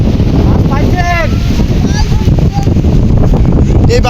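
A fishing boat caught in a rainstorm is battered by strong wind, a loud, steady roar with constant buffeting at the microphone, while voices talk over it.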